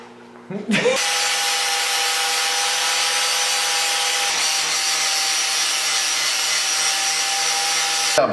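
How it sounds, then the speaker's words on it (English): Sanding on a car body panel for a $500 race car project: after a few brief knocks, a loud, steady, continuous abrasive rasp runs without a break, with a faint voice in the background. "Yeah, but that's gonna be a lot of sanding."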